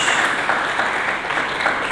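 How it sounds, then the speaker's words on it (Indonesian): Congregation applause during a Sunday church sermon, a full, steady wash of many hands clapping together, loud and close throughout. "Mari kita berikan tepuk tangan bagi Yesus Kristus."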